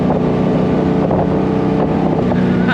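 A 1966 Chevy C2 Corvette Stingray engine runs with a loud, steady, close rumble that holds evenly for about three seconds, with no talking over it.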